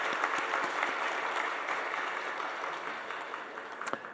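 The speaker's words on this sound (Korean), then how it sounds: "우리 박수로 하나님 앞에 영광 돌려드리겠습니다" A church congregation applauds during a Sunday worship service, a soft, steady wash of many hands clapping that gradually thins out. A few sharper claps stand out near the end.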